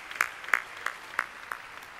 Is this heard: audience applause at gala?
yes